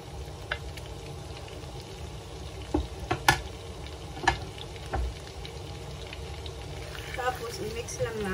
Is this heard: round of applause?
no